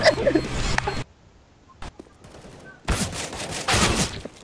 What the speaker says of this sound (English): He shot me through the box!